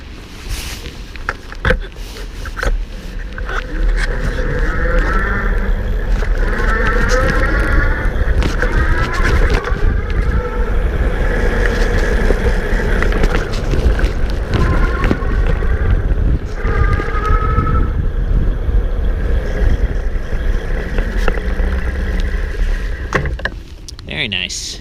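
Rad Power RadMini fat-tire e-bike rolling over a cobblestone hill at the highest pedal-assist level, a steady loud rumble with rattling and wind buffeting throughout, with some faint voice underneath.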